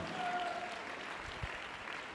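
A church congregation claps in steady, dense applause at moderate volume for the whole stretch, with no voices standing out.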